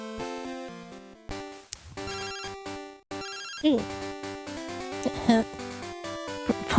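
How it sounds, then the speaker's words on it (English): A phone ringing in the video game Pokémon Crystal: bright chiptune tones repeat in short bursts, with brief gaps between the electronic melodic phrases. "phone call from Professor"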